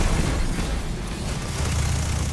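Grenade explosions in the video game Destiny during the Garden of Salvation raid, a loud, dense rumbling burst of booms and low blasts filling the whole moment with no clear gaps.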